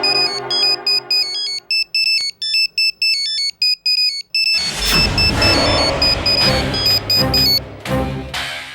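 A loud electronic phone ringtone plays a repeating melodic pattern, then continues over a sudden burst of rumbling noise and engine-like sound.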